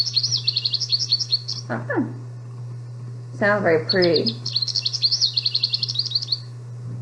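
Goldfinch song plays as bright, rapid twittering chirps in quick runs, loud and close, broken in the middle by people talking, with a steady low hum underneath.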